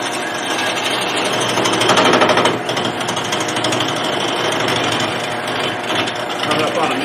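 A wood lathe spins a workpiece while a high-speed steel turning tool cuts into it, making a loud, steady, continuous grinding whir with slight variations; a voice speaks faintly underneath.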